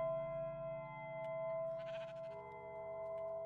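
A Minecraft sheep bleats softly over a steady droning game soundtrack with sustained tones, the bleat brief and partly buried in the music.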